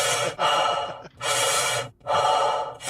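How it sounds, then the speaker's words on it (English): Heavy, ragged breathing of an injured character in the video game Star Citizen, three loud, close drawn-out gasping breaths with brief pauses between them and no talking over them. "I cannot hear over this fucking breathing"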